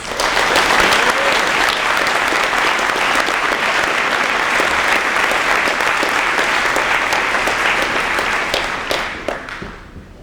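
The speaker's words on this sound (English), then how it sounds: "let's have a round of applause for our 2017 mentors" A large audience at a career day event claps steadily for about nine seconds, a dense even roar of applause that tapers off at the end.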